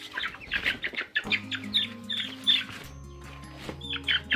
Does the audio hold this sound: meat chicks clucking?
yes